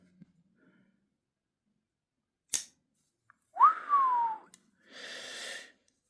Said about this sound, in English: Let's hear it close again. Check the walk and talk.